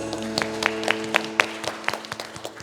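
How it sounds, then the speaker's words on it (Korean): Church congregation clapping together after a worship song, a run of sharp, uneven handclaps rising and falling over a sustained organ or keyboard tone. "우리 주님께 감사와 영광의 박수를."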